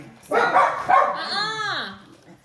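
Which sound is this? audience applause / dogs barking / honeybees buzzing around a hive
dogs barking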